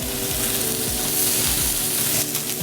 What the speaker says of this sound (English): So we can hear a nice sizzle, and it'll be a nice sear that we get